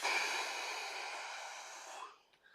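Slow, steady breathing during a guided movement and stretching session, a broad airy hiss held for about two seconds before fading into quiet, close and fairly soft with no talk over it.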